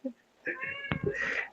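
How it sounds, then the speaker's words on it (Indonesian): A stray cat gives a drawn-out meow near the microphone in an indoor setting, with a short faint sound just before it and some background noise underneath. "Tolong kucing siapa tuh? Kasih makan lah."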